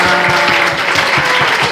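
Church congregation applauding in welcome at a Korean church gathering, a steady dense wash of clapping filling the short moment at close range, with no voices breaking through.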